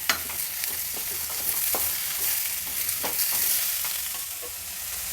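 Tomatoes fry in a hot pan for an instant oggarane dosa, making a dense, continuous sizzle close by. Repeated scraping strokes of stirring come through, with no talking.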